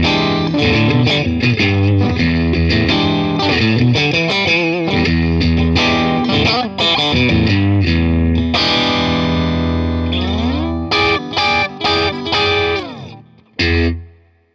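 Electric guitar played through a Lehle Julian parametric boost pedal with the treble strongly boosted gives loud, bright, heavily distorted riffs and chords, with sustained ringing notes and a few stabbed chords at the end.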